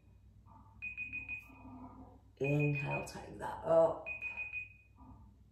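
A timer alarm beeps in short bright repeated bursts during a yoga session, sounding three times while an instructor talks over it.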